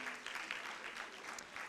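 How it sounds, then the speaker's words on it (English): A brief burst of audience clapping fills a hall at an inter-school debate contest, soft and somewhat distant, lasting under two seconds. "A round of applause for Thika High School."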